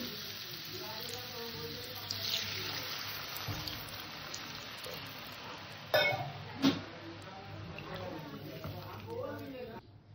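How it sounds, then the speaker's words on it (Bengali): Water poured into a pan of salted, turmeric-spiced potato curry, giving a steady sizzling, rushing hiss throughout with two sharp louder bursts near the middle, close by; a voice speaks faintly underneath. "এবার এখানে আমি জল দিয়ে দেবো।"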